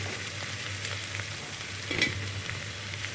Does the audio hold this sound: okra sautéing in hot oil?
yes